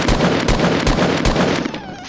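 Rapid gunshots in Fortnite, a loud steady string of close shots fired in quick rhythm for about two seconds.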